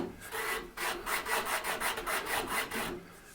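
Rhythmic back-and-forth rasping of a sanding block on wood, about a dozen even strokes, close and steady with no talking.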